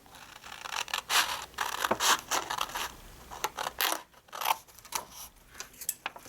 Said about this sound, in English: we're going to cut away, tape it in and cut away these two pieces here.